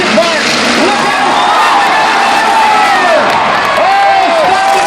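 A dense crowd at a demolition derby in Spanish Fork screams and cheers loudly and without a break, with whoops and shouting voices rising above the roar.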